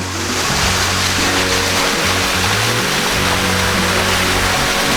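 First tier of Ang Chang Nam waterfall, running at low flow, gives a loud, steady rush of falling water that fills the whole five seconds, close by and alone with no voices.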